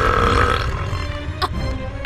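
A cartoon female character lets out a long, loud, drawn-out burp, close and alone, followed by a short sharp sound effect.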